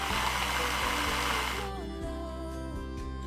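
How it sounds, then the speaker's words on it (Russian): Blender chopping mint, green chili pepper and garlic, a loud whirring motor roar that drops in pitch and grinds on as the contents break down, steady and close. "Измельчаем в блендере."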